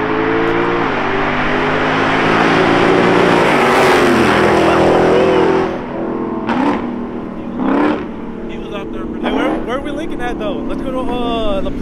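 Stock Dodge Hellcat revving hard and accelerating in a street race, a loud sustained engine roar climbing through gears before easing off, with people talking and shouting over it afterward.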